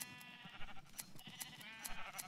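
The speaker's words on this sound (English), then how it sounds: "Let's shear some sheep." Sheep bleating while being sheared in the Minecraft video game, a few wavering bleats heard close and faint, with sharp clicks and snips in between.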